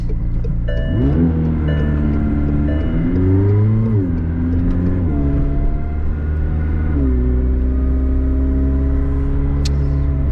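A 2021 McLaren 765LT engine revs and climbs through the gears, each upshift dropping the pitch before it rises again, loud and close with no talking.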